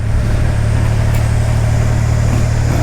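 Triumph Rocket 3 R motorcycle engine running at a steady, low-pitched throttle, a loud, continuous rumble close by with no break and no talking.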